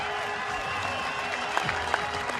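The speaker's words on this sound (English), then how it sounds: "His teammates stand to applaud him." Applause at a cricket ground as Sharjeel Khan reaches his first ODI century against Ireland, sustained crowd clapping heard under a commentator's voice.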